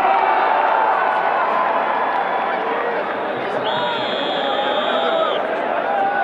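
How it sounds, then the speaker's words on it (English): A large crowd roars and cheers steadily at a night cricket opening ceremony in a Dubai stadium, a dense continuous wash of voices with a brief high horn-like tone partway through. "A big round of applause for yourself,"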